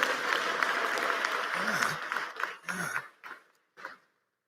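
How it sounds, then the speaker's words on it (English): Audience applause at a university commencement ceremony, a dense steady roar of many hands clapping that thins into scattered claps and fades out over the last second, with a brief voice murmuring partway through. "Give her a round of applause"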